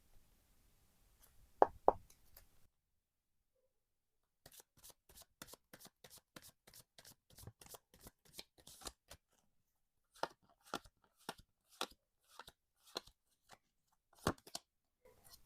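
Tarot cards being shuffled and drawn by hand, crisp close riffles and quick dense flurries of card flicks separated by short pauses, with a couple of soft thumps early on and no talking.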